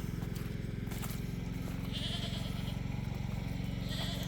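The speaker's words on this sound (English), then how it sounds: "Let's go over here and check on the baby goats." Baby goats on a wet homestead giving a couple of faint bleats over a constant loud droning hum that dominates the scene.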